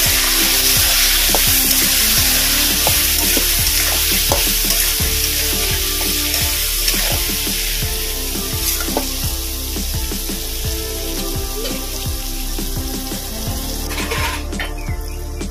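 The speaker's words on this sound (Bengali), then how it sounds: "এটা এবার হালকা করে ভেজে নেব।" Fish head with potato, salt and turmeric frying in a pan, a loud steady sizzle with repeated spatula stirs and clinks, continuing throughout with no voices.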